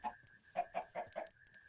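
Minecraft chickens cluck in a quick run of four or five short, soft clucks over a faint steady tone, fairly quiet and close.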